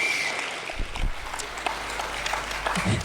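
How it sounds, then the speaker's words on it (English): Audience clapping for a presenter at a tech talk, a short burst of moderately loud applause with scattered distinct claps, continuing steadily over a low room hum. "Round of applause for Josh."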